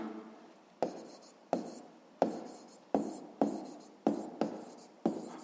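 Pen writing down an answer during a sixth-grade math exercise: a close, quiet series of about nine repeated scratchy strokes at a steady rhythm, each starting sharply and fading, with no talking.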